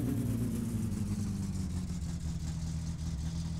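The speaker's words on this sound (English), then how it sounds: "At least it's idling properly." A car engine idling in the video game My Summer Car, a steady low rumble that holds even and unbroken throughout, close and alone.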